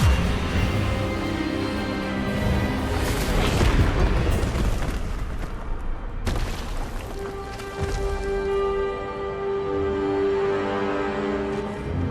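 Spell-casting burst of a disarming charm in the video game Hogwarts Legacy, a loud booming blast with rumbling magical effects, followed by a sustained tonal hum during a tense duel scene with music.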